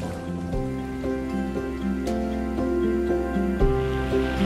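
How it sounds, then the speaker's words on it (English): Steady rain hisses softly through a heavy black rainstorm in Hong Kong, a faint wash of rainfall lying under louder sustained musical notes that change every second or so. "This is what a black rainstorm looks like here in Hong Kong."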